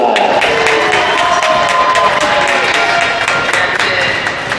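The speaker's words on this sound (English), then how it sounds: "Please give a round of applause for Henrik Overvall." Sustained applause and cheering from an arena crowd for a graduating player on a men's college hockey senior night, loud and steady throughout with dense clapping.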